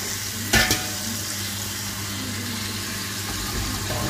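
Carrots and beef browning in a pan for bœuf bourguignon give a steady, loud sizzle with a brief clatter of stirring near the start.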